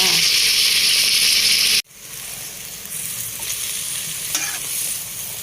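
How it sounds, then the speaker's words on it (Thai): Cucumber stir-fried with pork belly, a loud hissing sizzle that cuts off abruptly, then resumes as a softer frying sound with occasional stirring scrapes. "ผัดแตงกวาใส่หมูสามชั้นยั่วๆจ้า"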